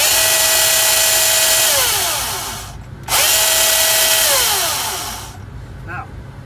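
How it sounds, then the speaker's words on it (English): A Milwaukee chainsaw motor revs loud and close, winds down, then revs up again before fading out, with a whining mechanical roar. "it takes bar oil like any chainsaw would"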